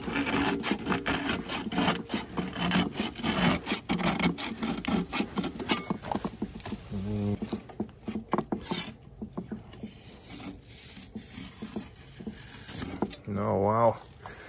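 A spatula scrapes the old gasket off a Big Green Egg ceramic grill in a close, rapid scratching and rubbing patter that thins out partway through, while someone talks over it.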